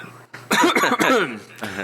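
Several people cough in quick succession, close and fairly loud, a short burst of rough overlapping coughs.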